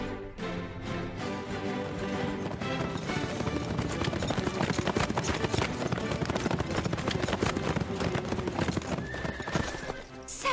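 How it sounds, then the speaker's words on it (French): Horses gallop across a meadow in the Horseland video game, their steady clip-clop of hooves and whinnies running continuously over dense background music. "On va faire galoper les chevaux."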